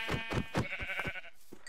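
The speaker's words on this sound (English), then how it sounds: "I heard a sheep." A sheep bleats in Minecraft in a quick, wavering series of calls, close and clear, with no talking.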